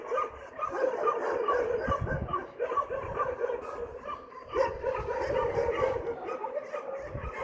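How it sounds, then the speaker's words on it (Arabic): Stray dogs barking and yipping at night in Fez, several animals heard at a moderate distance with irregular bursts of barks and whimpers, fairly faint overall. "والله ما تيخليو بنادم ينعس هاد الكلاب"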